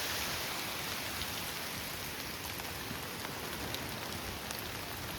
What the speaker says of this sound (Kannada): ಸ್ವಲ್ಪ ಫುಲ್ಲು ಮಳೆ ಬರ್ತಿದೆ